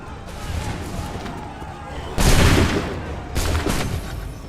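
Musket volley fired on command in Assassin's Creed III, two dense bursts of crackling gunfire about a second apart over battlefield noise, with shouting voices in the background.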